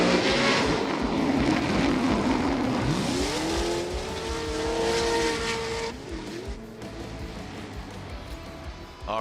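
A Formula Drift car screams through a slide, engine wailing and revving up and down with squealing tires. It stays loud and close, then eases off as it exits the corner.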